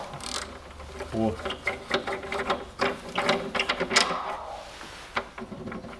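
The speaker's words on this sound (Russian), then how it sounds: "Откручиваю крышку для удобства." Ratchet clicks in quick rapid runs while loosening the engine cover under the open bonnet of a 2007 Toyota Avensis 2.0, close and clear, with clinks and handling noise throughout and a brief voice early on.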